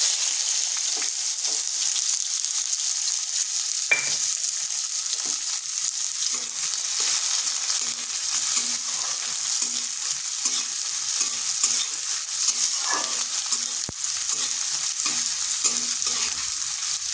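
Chopped onion frying lightly in a pan with cumin seeds and a dried red chilli, a steady hiss of oil broken by frequent scrapes and taps of a spatula stirring throughout, alone with no talk.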